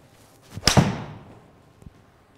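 A Cobra Forged Tec iron strikes a golf ball with a single sharp, close click, followed by a fading ring and a quieter tap afterward.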